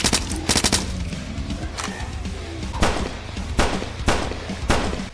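Rapid bursts of loud gunfire in the video game Blood Waves, automatic volleys followed by several single sharp shots at uneven intervals, with no talking.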